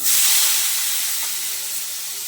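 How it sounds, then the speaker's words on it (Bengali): Onion and tomato hitting a hot pan give a loud, broad sizzling hiss that starts sharply and slowly eases, steady and close with no voices. "এবার পেঁয়াজটা আর টমেটোটা দিয়ে দিচ্ছি।"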